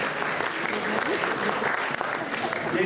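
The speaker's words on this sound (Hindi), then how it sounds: "ख़वातीन और हज़रात, आपकी भरपूर तालियों में" Steady, continuous applause from the audience at a Pakistani community achievements awards ceremony in Hounslow fills the hall, loud and sustained throughout.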